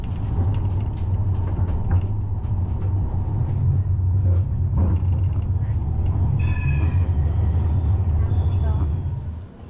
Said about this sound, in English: this was my first tram ride in Europe